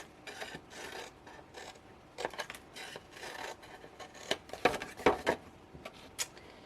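A gift box lid being cut and wedged all the way around, heard as close scraping and rasping strokes in uneven bursts, growing busier and louder toward the end, with no voices.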